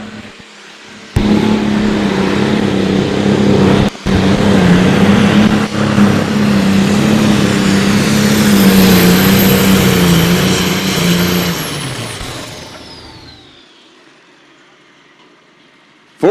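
A light super stock pulling tractor at the Missouri State Fair outlaw pull roars loud and close at full throttle for about ten seconds, its engine note sustained and droning, then fades away as the run ends.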